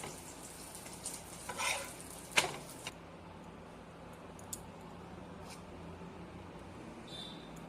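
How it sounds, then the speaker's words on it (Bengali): Eggplant slices fry in a pan with a soft sizzle, interrupted by a few scraping, clattering spatula strokes early on, then quieter hissing; faint and close, no voices. "বেগুন ভাজছি, গরম গরম বেগুন ভাজা"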